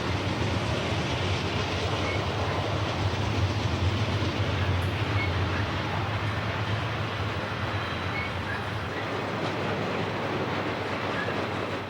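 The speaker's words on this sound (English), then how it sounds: "These bulkhead flat cars rolling by may look empty at a glance" A freight train of bulkhead flat cars rolls steadily past close by on the Tennessee Pass railroad, a continuous loud rumble of wheels and cars with faint clacking, no voices.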